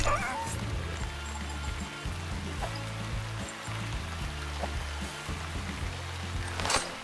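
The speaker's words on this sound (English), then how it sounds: "Oh, the hunting dog." Hunting dog in the Shroud of the Avatar game giving repeated short barks and yips over a soft flowing-stream ambience, moderately close and fairly quiet.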